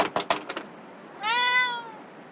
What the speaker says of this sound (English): I heard a kitty.